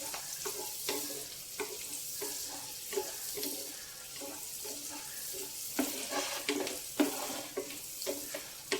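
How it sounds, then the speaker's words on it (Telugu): Onions frying in a pan for a Telugu beetroot and chickpea curry, with steady sizzling broken by repeated scraping stirs of a spoon against the pan, close and clear with no talk. "ఉల్లిపాయ వేగిపోయిందండి."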